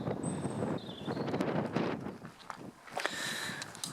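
Wind gusts steadily outdoors beside a village church in the East Riding of Yorkshire in February, a constant rushing buffet on the microphone with faint scattered bird chirps and a brief lull near the end.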